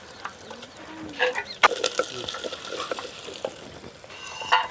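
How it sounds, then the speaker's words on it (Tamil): Green chilies, dried red chilies and cumin frying in hot oil for eggplant rice, a steady soft sizzle broken by occasional stirring scrapes and faint clinks of the pan. "பச்சை மிளகாய் மூணும் வரமிளகாய் நாலு ஒரு மூணு சீரகம் போட்டுக்கலாம்"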